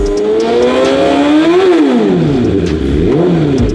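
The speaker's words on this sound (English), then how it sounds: "Let's see if we can hear the precision engineering from Germany's finest four-cylinder engine." A BMW S1000RR four-cylinder sport motorcycle engine revs hard and loud close by, its pitch climbing, dipping and rising again in sharp throttle blips over about four seconds.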